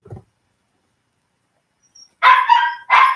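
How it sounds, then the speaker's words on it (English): A dog barks three times in close succession at fairly close range, sharp and loud, after a brief soft noise and near silence. "That dog gets on my last nerve."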